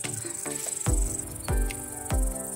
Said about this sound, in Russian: а здесь вот такой кузнечик